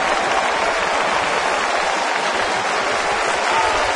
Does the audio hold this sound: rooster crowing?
no